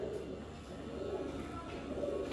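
Soft, low cooing murmurs of rooftop Batera pigeons, steady against a faint background hum, with no clear pauses.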